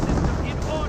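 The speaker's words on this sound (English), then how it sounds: "Grenade does force back that Grenadier squad." A grenade explodes in the World War II strategy game Company of Heroes, a loud, dense burst of booming noise that fills the whole moment and may be mixed with commentary.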